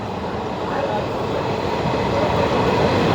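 A train running through a tunnel in Madhya Pradesh, a loud, constant roar and rumble of wheels and carriages that grows slightly toward the end.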